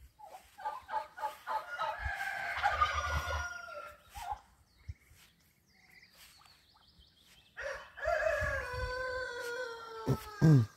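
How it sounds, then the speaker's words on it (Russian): Several roosters crowing in chorus at a farmyard on a sunny, cool day, overlapping cock-a-doodle-doo calls rising and falling in bursts, loud and near, with a pause in the middle before another round of crowing. "О, петухи многоголосием поют."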